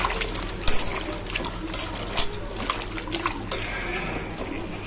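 Cut brinjal pieces being washed by hand in a bowl of water, with splashing, trickling and swishing sounds up close and small clinks, while a person talks over it.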